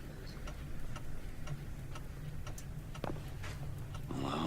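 Steady ticking of a clock in the Bioshock Infinite video game, even and quiet over a low ambient hum, with a few brighter clicks and a rising swell of game sound near the end; no one talks.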